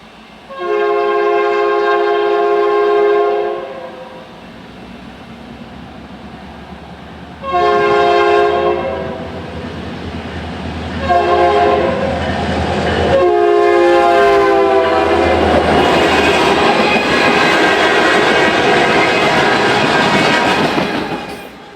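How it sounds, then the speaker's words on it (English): Westbound CSX freight train passing at Klein on a warm summer evening, sounding long, loud, chime-like horn blasts in a sequence, then a growing roar of locomotive engines and rolling wagons close by. "we catch a late-running westbound AF-12 at Klein on a blissfully warm midsummer evening"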